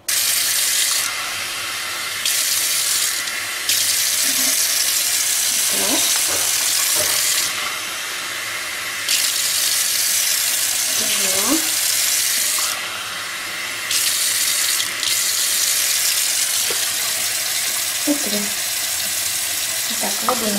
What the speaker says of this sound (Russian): И сейчас наливаем воду.